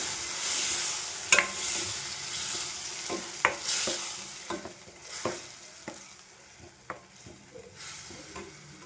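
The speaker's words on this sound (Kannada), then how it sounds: "ಮಸಾಲೆ ಇದೆಯಲ್ಲ ಅದನ್ನು ಹಾಕ್ಕೊಂಡು ಬಾಡಿಸು ಚೆನ್ನಾಗಿ" Masala for an egg gravy being sautéed in a pan after onions have fried, with steady sizzling and a series of distinct spoon-against-pan scrapes and clinks at irregular intervals, close and alone.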